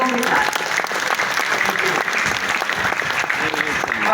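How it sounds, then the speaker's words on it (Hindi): An audience at a Hindi poetry gathering in Darbhanga applauds steadily to welcome the poets, a dense, even wash of clapping from many hands throughout, with no voices over it. "हम सब मिलकर इन सभी कवियों का स्वागत करें तालियों के साथ।"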